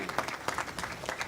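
A crowd at a campaign launch gathering claps hands in a short, lively burst of loose, overlapping claps with a few louder individual hits.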